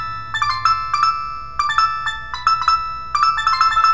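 Training software sounding feedback tones when criteria are met: clusters of bright electronic chime-like beeps repeating in short bursts about every half second, steady and loud, with no talking.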